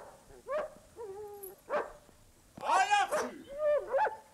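A dog gives a few short, close yelping barks with quiet pauses between them.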